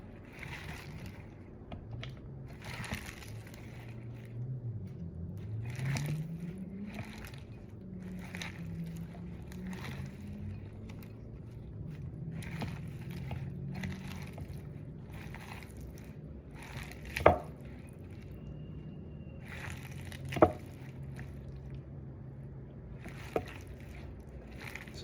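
A salad is tossed and mixed in a bowl, giving soft, rhythmic rustling and squishing strokes, with a few sharper clinks near the end, fairly quiet and close.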